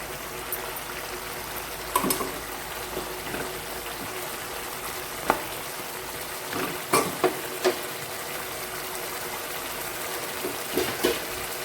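Prawn malai curry simmering in a pan, a soft continuous bubbling sizzle with scattered small pops and stirring clinks, moderately close and steady with no talking.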